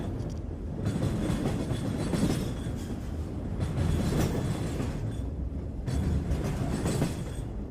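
A train running on rails gives a loud, continuous rumbling roar with a steady clatter of wheels, swelling and easing slightly throughout, with no voices.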